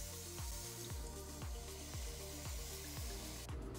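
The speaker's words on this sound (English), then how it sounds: "try to get that perfect little sear on there" A seasoned beef roast sears in a heated Ninja Foodi pan, giving a soft, constant sizzle heard over a low, evenly pulsing mechanical hum, with no voices.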